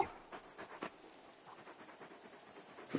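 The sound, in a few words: dog panting, from video game Final Fantasy 16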